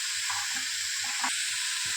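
Boiled cauliflower roasts in a hot pan, giving a steady bright sizzle with a few soft low knocks and shifts as the pieces move, close and continuous.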